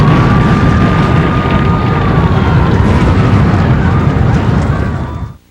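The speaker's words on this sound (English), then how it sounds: "World Trade 7, the building housing the city's command center, burns unchecked for 7 hours. At 5:20, it collapses." World Trade Center 7, a building burning unchecked for hours, collapsing in a continuous loud, dense roar with rumbling low end that holds steady for about five seconds before abruptly cutting off.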